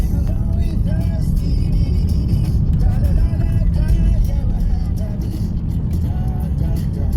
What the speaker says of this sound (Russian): Это мы не по трассе едем, а по российской глубинке.